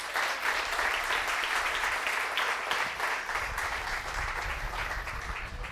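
A church congregation applauds during a Sunday worship service, producing a sustained wash of clapping that holds steady from start to finish with a low rumble growing underneath toward the end.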